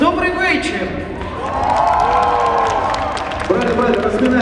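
Audience applause at the opening of the 2014 Koktebel Jazz Festival: a steady wash of clapping from a crowd, sustained throughout beneath a host speaking over the sound system.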